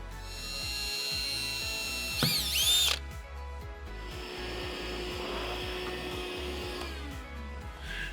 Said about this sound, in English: Drilling a hole, fiberglass boat, we want to make sure it's nice and dry